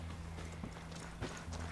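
Faint horse hooves in Ghost Recon Wildlands, a few soft, uneven thuds of hoofbeats against a low steady background hum.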